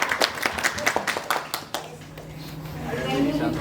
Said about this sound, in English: Big round of applause to Sabrish.